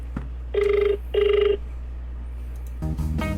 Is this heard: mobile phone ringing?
yes